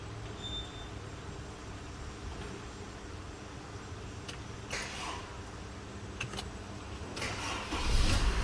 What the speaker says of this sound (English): Okay, and now when I start,